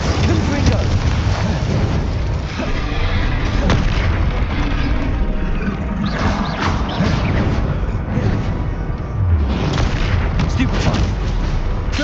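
Repeated booming blasts from a Confringo fire spell in the Hogwarts Legacy video game, dense and loud, overlapping with battle clamor and a player shouting spell names throughout.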